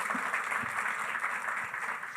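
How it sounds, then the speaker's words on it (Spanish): An audience at a panel discussion on local businesses going digital claps in steady, even applause that fills the room for a couple of seconds, with no voices over it. "aplauso para las tres"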